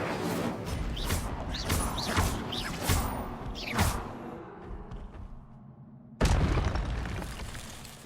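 Incendio, a fire spell from the game Hogwarts Legacy, is cast repeatedly, producing whooshing flares and crackling bursts, followed by a short lull and a final sharp fiery burst.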